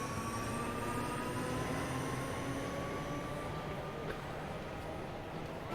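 A Class 314 electric train pulling away in Train Sim World on the Glasgow line, a steady loud rumble of wheels and traction motors with a faint high whine, continuous throughout.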